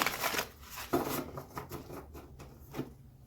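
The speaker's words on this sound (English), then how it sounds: "Okay, one more shuffle and then we'll get one to flip." Someone shuffles a deck of tarot cards during a reading, giving faint, soft riffling and papery flutters in a few short bursts.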